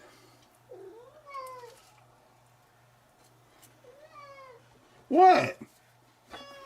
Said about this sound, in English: Are you a sad cat?